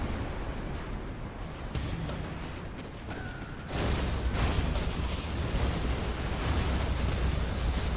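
A particle cannon fires in C&C Generals Zero Hour, a real-time strategy game. It sounds like a deep, loud rumbling blast that jumps sharply partway through and then roars on steadily to the end, with no voices over it.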